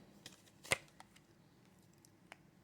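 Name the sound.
shuffling and cutting a tarot card deck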